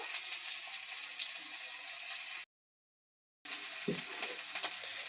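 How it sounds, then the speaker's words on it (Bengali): Whole cumin seeds and a dried red chilli sizzling in hot oil, a bright, steady crackling hiss that drops out abruptly for about a second before resuming. "দেওয়া হচ্ছে গোটা জিরে হাফ টেবিল স্পুন একটা শুকনো লঙ্কার ফোড়ন দিয়ে নেওয়া হলো"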